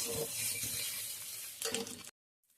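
Garlic paste frying with onions in a pan, a steady close sizzle with stirring scrapes that swells briefly before cutting off abruptly.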